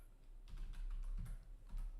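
Quiet keystrokes on a computer keyboard, a few short bursts of typing with brief pauses between them, close and faint, with no talking.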